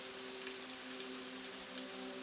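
Soft, steady rainfall pattering on a surface, a quiet even hiss with light drop ticks, accompanied by a low sustained tonal hum underneath throughout.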